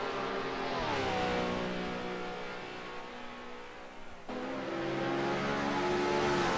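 Classic 1967 Formula 1 cars in a sim racing game at Monza, loud high-pitched engines revving and climbing through the gears, one car passing close and fading before another screams past.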